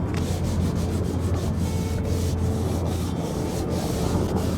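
Continuous scratchy rubbing of sandpaper on wooden sailboat parts by hand, close up and fairly loud, in quick repeated strokes.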